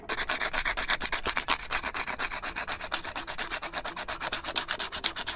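A metal wire rubbed with sandpaper before spot welding, a steady, rapid back-and-forth scratching of even strokes, close and alone without any talk.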